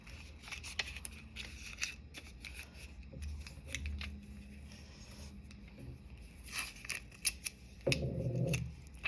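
Tape is pulled and pressed onto a paper drawing laid on a wooden block, making close, soft rustles and scrapes, with a longer tearing sound near the end and no voices.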